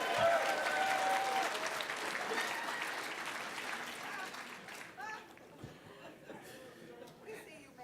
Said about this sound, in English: I thought it would get a big applause